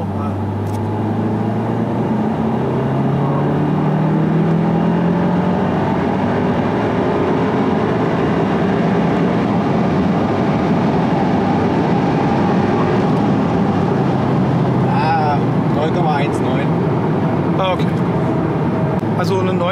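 Seat Leon Cupra 300ST 4Drive fitted with an LM500 turbocharger accelerates on a timed run, a loud sustained engine roar rising in pitch with a gear change, with people talking over it late in the clip.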